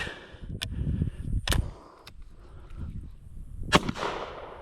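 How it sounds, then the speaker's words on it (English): Suppressed 10 gauge shotgun firing double-aught buckshot at a steel target: a few sharp, muffled reports spaced unevenly over a low outdoor rumble. "Suppressed 10 gauge shotgun. Here you go. This is double-aught buck."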